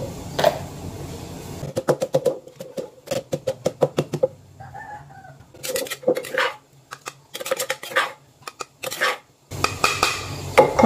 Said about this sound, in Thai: ก่อนอื่นเราก็มาโขกพริกก่อนนะคะ